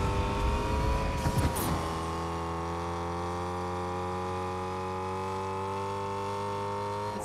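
A Fortnite vehicle's engine hums at a steady, sustained pitch after a brief rough burst at the start, a continuous close drone with no talk over it.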